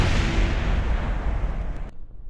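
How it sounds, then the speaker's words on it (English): Rocket explosions in the Kerbal Space Program video game, a loud sustained rumbling blast with heavy low boom that rolls on for about two seconds and then cuts off abruptly. "Damn, those were loud explosions."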